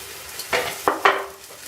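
Batter hitting hot oil on a tawa while making Bengali-style vegetable patishapta, giving three short bursts of sizzling close by, each flaring up and quickly settling into a faint hiss.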